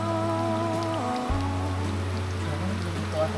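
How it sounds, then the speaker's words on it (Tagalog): Heavy rain pouring down in Marinduque, Philippines, a dense constant hiss with a low hum underneath and a few faint tonal sounds. "Lakas ng ulan."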